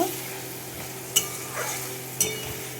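Spice paste for a silver carp curry sizzles steadily in oil in a pan, broken by two sharp scrapes of a spatula stirring it, with no talk.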